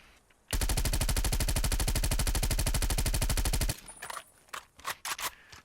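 Groza assault rifle from Call of Duty Black Ops Cold War firing one sustained full-auto burst, a loud, rapid, even rattle of shots lasting about three seconds, followed by scattered fainter clatter and mechanical clicks.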